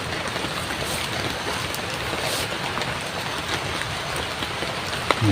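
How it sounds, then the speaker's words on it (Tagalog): Heavy rain pours steadily and densely on surrounding surfaces, a constant close wash of drops with no talking over it. "Ang lakas ng ulan, no?"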